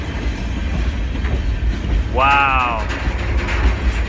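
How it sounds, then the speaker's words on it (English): Train wheels rumble and clatter steadily as a CN freight train carrying a Budd RDC railcar rolls past, with a brief squeal mid-clip and a voice exclaiming. "Budd RDC on a freight train."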